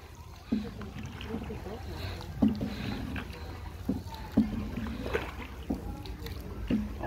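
Oars dip and pull through water as a small rowboat is rowed on a trip in Vietnam, with rhythmic splashes and creaks roughly every second or two, and people chatting faintly underneath.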